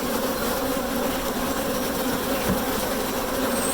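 Honey bees from a National 14x12 hive swarm around an open hive during an inspection, making a steady, dense, droning hum that stays close and loud throughout with no talk.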